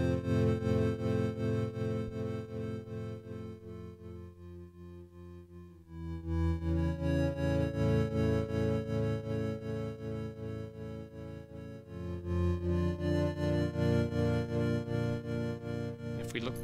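Sustained, dense LMMS Triple Oscillator synthesizer chords with volume automation, changing roughly every six seconds, with a slight rhythmic pulsing in level and no voices.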